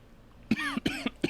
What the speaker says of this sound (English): that cough was a floodgate